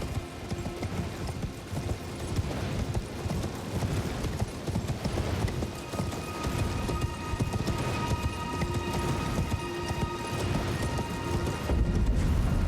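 Horse hooves galloping steadily in Elden Ring, a continuous rapid clip-clop rhythm close up and fairly loud for the whole stretch, with no voices over it.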